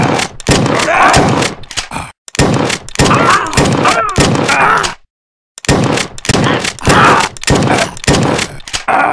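A double-barrel shotgun in the zombie shooter game Redneck vs Zombies fires a rapid series of loud, close blasts in clustered rhythm, with one short silent gap midway.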